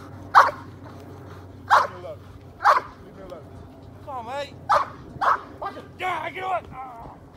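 An 11-month-old Belgian Malinois barks hard during close protection training, delivering a steady series of loud, evenly spaced barks with whimpering yips between them, close to the microphone with no talk over it.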